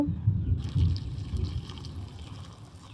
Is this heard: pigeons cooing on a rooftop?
no